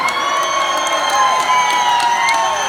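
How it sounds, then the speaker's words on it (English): A large crowd cheers and whoops continuously, with scattered clapping and shouts blending into a steady roar. "let's hear it for Teddy. Come on"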